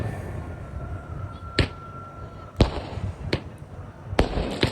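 Diwali fireworks launching one after another at close range, several sharp loud bangs and whooshes spaced irregularly over a low background hum.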